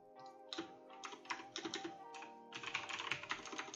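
Irregular clicky keystrokes on a computer keyboard, close and quiet, coming in quick bursts and scattered taps with no talk.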